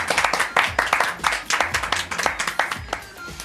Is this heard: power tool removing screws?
no